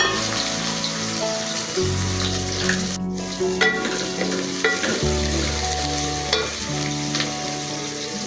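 Onion frying in a pan at the start of a mixed vegetable dish, giving a steady close sizzle with occasional stirring scrapes and clicks throughout, no voices.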